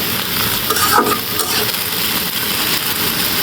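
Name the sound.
okra frying and being stirred in a pan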